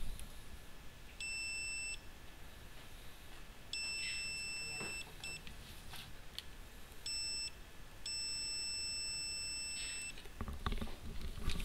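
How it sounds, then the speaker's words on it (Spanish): Four short bursts of high-pitched electronic beeping from a multimeter continuity test as its probes touch, each lasting about a second, over a steady background hiss. "cuando las puntas se tocan, genera un pitido"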